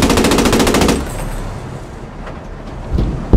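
Gun fire from a King Tiger tank in the World War II shooter Post Scriptum: a loud, rapid burst lasting about a second, then low vehicle rumble with a few faint knocks.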